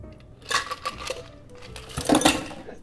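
A penicillin whisky cocktail double strained over a large ice block, with short bursts of liquid pouring and clinking of metal strainer and glass, close and bright.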